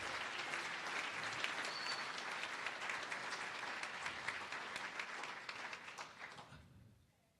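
Audience at a fundraising event applauding $1,000 pledges, a sustained round of many hands clapping, fairly distant and even, tapering off to quiet at the end.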